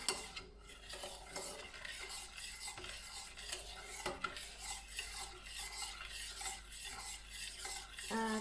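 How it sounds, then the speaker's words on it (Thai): A sauce mixture for son-in-law eggs is stirred in a pan, with steady scraping and clinking of a utensil against metal, a faint sizzle underneath, and no talking. "คนส่วนผสมให้เข้ากันนะคะ"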